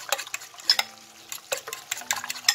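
A utensil scrapes and clicks against a pan as a sauce for Moroccan pastilla is stirred and reduced, close-up, in quick irregular strokes with no talk.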